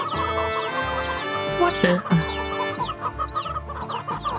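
Chickens clucking and squawking in a coop at night, with repeated low clucks and higher chirps nearby, and a rooster-like call partway through while a person briefly speaks.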